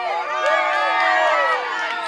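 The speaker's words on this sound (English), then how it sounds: "They've got energy, they're cheering, they're helping someone else." Spectators cheer and shout along the run course of the 2015 Ironman 70.3 St George North American Championship, a steady, dense crowd roar with high voices rising and falling across the whole stretch.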